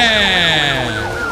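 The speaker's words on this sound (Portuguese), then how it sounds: "Meu Deus, passou uma viatura voando do meu lado aqui" A police car siren in Forza Horizon 5 wails loudly and close, its rising-falling tone sliding downward in pitch as the car speeds past, with a faint engine underneath.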